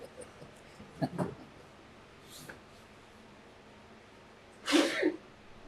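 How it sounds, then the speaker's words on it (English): A sharp sneeze bursts out near the end after a couple of quieter throat and breath sounds, close and fairly loud. "I have to sneeze."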